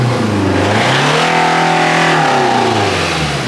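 A Toyota Corolla project car, a JDM model, revving hard with a throaty engine note that climbs and then falls back, loud and close throughout.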